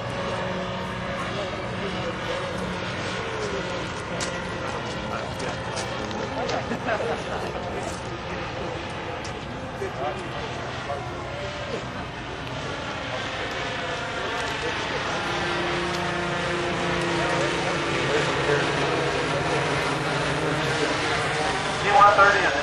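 Four-engine RC model of a Blue Angels C-130 "Fat Albert" transport flying at an outdoor air show, a steady propeller-engine drone that holds throughout and swells slightly near the end, with crowd noise and talk underneath.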